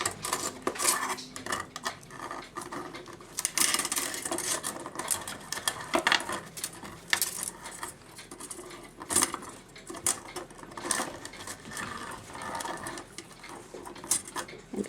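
Rapid metallic clicking and ratcheting as the oiled mainspring of an 1870s Ansonia regulator clock is wound by hand, a dense run of close, bright ticks with brief pauses, steady and nearby.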